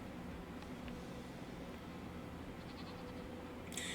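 Faint goat bleats from Farming Simulator 25 rise over a steady, noisy background hiss, several overlapping animal calls blending together at low volume.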